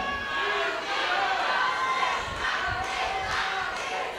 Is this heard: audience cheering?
yes